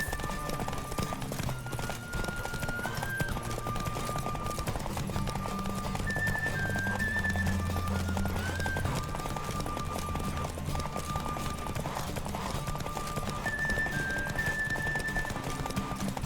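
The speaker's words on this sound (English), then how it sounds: "Don't spare the horse!" Rapid, rhythmic hoofbeats of a galloping horse in The Witcher 3: Wild Hunt pound steadily over a background of music, with a brief whinny in the mix.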